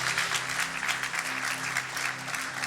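A congregation claps at a church baptism service, a dense sustained round of applause that stays full and steady from start to finish, with a faint low hum underneath.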